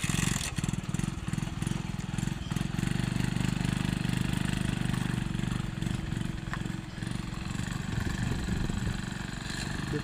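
A TVS XL 100 moped engine runs steadily while pulling a trolley loaded with soil-filled bags on rough ground, a close, continuous mid-pitched putter with slight load variations.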